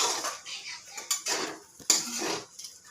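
Flattened rice poha being stirred with a whole lemon's juice in a cooking pan, giving a run of scraping and clinking utensil strokes against the pan, close and moderately loud, with no talk.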